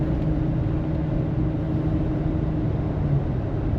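A 2007 Hummer H2 Victory Red Limited Edition cruises at 60 mph, giving a steady low engine drone and road rumble from inside the cabin, smooth and even with no voices.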